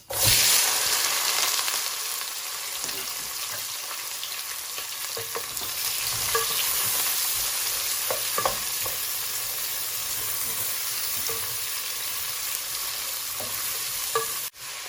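Ginger, garlic and onion sizzle and fry together in a hot pan, a steady loud hiss throughout with occasional scrapes and knocks of stirring, no voices.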